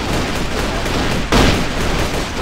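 Gunfire rings out in a PC shooter video game, a dense, loud burst of rapid shots with a sharper blast partway through.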